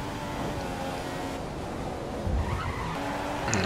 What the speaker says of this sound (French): Donc là, gros freinage et gros blocage de roue une fois de plus.